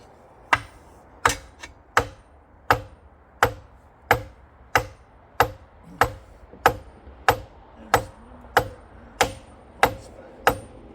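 Hard metal strikes on a seized engine block of a 1958 Chevrolet Biscayne parked over 40 years, about fifteen sharp, evenly spaced whacks, loud and close, each ringing briefly before the next.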